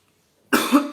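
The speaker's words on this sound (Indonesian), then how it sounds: "Saya kalau cuacanya dingin kadang sedikit ada batuk-batuk ya" A single close, loud cough bursts out after a silent half second, a short rough hack that trails off, with no talk around it.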